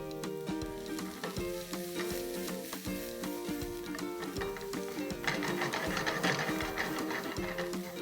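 Leftover cabbage sautés with garlic and ginger in a hot pan, giving a steady, fairly loud sizzle with rhythmic scraping stirs throughout.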